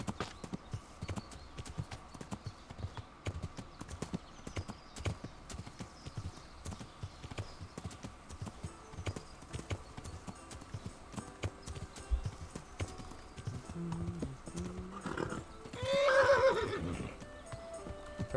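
A horse's hooves clip-clop steadily in a regular walking rhythm, then a loud whinny rises near the end, set over a faint background.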